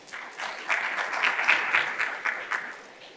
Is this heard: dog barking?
no